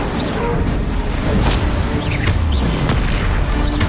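Bombarda explosion spell blasting in the game Hogwarts Legacy, a loud, dense rumble of booms and crashes running throughout with sharp impact bursts over a continuous roar.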